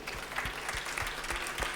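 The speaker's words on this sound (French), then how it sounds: "qu'on applaudit bien fort." An audience at the Prix Entreprises & Environnement 2015 applauds as an award winner is called to the stage, a steady, fairly close patter of many hands clapping without talk.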